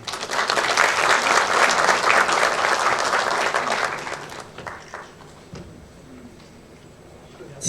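An indoor audience at a music event applauds loudly for about four seconds, then the clapping thins out to scattered claps and quiet room noise.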